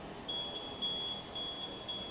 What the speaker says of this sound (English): you have to press and hold the switch